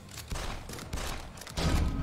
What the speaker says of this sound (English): Let's hunt those guys with my hunter rifle.